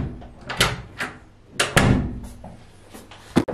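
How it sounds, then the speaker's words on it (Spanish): A wooden door with freshly repaired hinges swings and shuts with several knocks and thumps, a firm close near the middle and a sharp final clack, heard close up without talk. "Y cierra bien. Cierra perfectamente."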